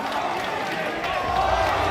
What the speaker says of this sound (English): that's the cheer from the crowd